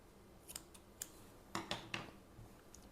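Scissors snip through crochet thread in a quiet room, a few light irregular clicks followed by three sharper, closer cuts in quick succession.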